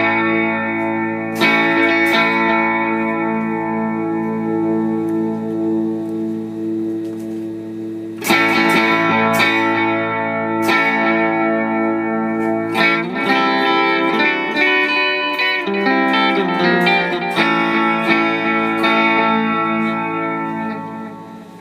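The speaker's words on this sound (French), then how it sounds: "Les modulations paraissent plus quand on laisse sonner la corde." Electric guitar run through Amplitube 5 with modulation and delay effects, plucked notes and chords ringing out with shimmering chorus-like warble and echo tails, loud and alone without talk.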